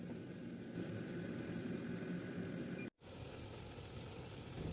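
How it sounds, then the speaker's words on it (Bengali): Cauliflower and broccoli fry in oil with a steady, even sizzle and bubbling that cuts out for a split second partway through before resuming. "আর এদিকে আমি ফুলকপি এবং বরকলি তেলে ভেজে নিতেছি।"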